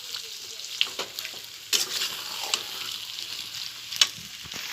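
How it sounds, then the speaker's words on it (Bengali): Soaked vegetables and chopped pui shak greens hiss in a pan with fish oil, a moderate steady sizzle punctuated by a few sharp stirring knocks and clatters. "এবার আমি ভিজে রাখা সবজিগুলোকে দিয়ে দিচ্ছি। আর পাতাটা যেটা কুচিয়ে রেখেছি সেই পাতাটাও এর মধ্যে দিয়ে দেবো।"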